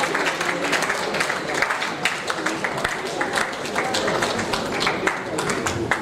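An audience at a national conference applauds continuously, a dense, steady patter of many hands clapping at moderate loudness for several seconds, with no clear break.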